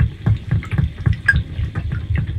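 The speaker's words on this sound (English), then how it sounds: "I wanted this water drops to be amplified through the acoustics, so it becomes like mantra's heartbeat" Water drops amplified through room acoustics in an art installation, a repeated rhythm of resonant, hollow drips falling at a steady, heartbeat-like pace, close and clear with no voices.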